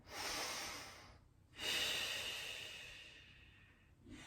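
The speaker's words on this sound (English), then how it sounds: "Deep breath here." A slow, deep breath during a Pilates spine twist, a long airy inhale and a longer hissing exhale close to the mic, soft and unhurried, no talking.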